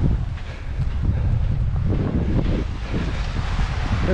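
Ocean waves breaking on a sandy beach between Comporta and Tróia, heard as a steady loud low roar of surf mixed with strong wind buffeting the microphone throughout.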